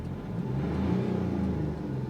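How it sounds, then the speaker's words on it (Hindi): A car engine idling and then revved as the accelerator is pressed, a close, steady low rumble swelling in the middle and easing back, with no talk. "गाड़ी स्टार्ट है, ये देखिए एक्सीलेटर दिया"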